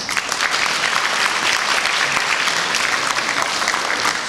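An audience at a folk instruments orchestra concert applauds the guests, with dense, even clapping that stays steady and full for the whole stretch.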